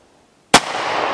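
A single sharp gunshot fired at a target during family target shooting outdoors, close and loud, cracking suddenly after quiet and followed by a lingering rushing noise.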